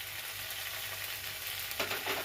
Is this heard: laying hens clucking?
no